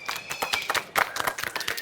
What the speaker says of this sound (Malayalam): ഈ ഗിഫ്റ്റ് നമുക്ക് തന്ന സ്പൈസ് കേക്കിന് നല്ലൊരു കൈയടി കൊടുക്കാം